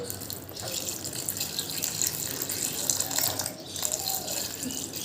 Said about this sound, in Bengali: এবারে এর ভেতর আমি অ্যাড করব ঠান্ডা জল।